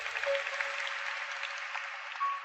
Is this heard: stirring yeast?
no